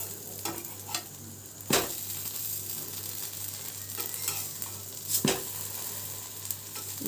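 A potato sandwich fries in butter on a hot pan, giving a steady close sizzle with a few sharp scrapes and taps as it is moved around.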